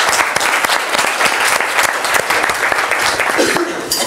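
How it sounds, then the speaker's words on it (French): Lecture audience applauding a professor after a talk on the conflict in the Democratic Republic of the Congo, dense steady clapping filling the room for about four seconds. "Je vous demanderai encore d'applaudir le professeur Dominique Renard."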